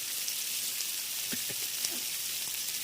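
Split green chillies, cabbage and carrot frying in a pan, giving a soft, steady sizzle with a few faint stirring knocks, close and without talk.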